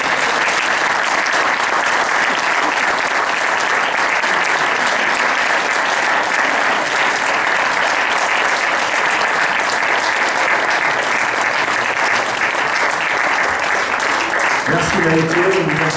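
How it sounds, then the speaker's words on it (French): An audience at an 11 November commemoration in Tarnos claps steadily and loudly for the whole stretch, with a few voices audible near the end. "je vous demanderai encore un applaudissement pour monsieur Chauffet"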